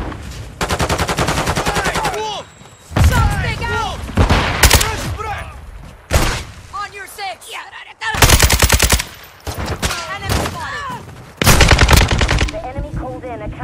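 Kastov rifle fire in a Modern Warfare 2 Hardpoint match on Mercado Las Almas, heard as loud, close bursts of rapid automatic shots with short gaps between them and faint in-game voice callouts in places.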